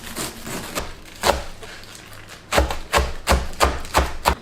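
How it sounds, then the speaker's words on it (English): A knife chops through silver beet on a board, giving sharp, close cuts in an uneven rhythm, a few spaced strokes followed by a quicker run of about six chops, with no voices. "Cut the silver beet."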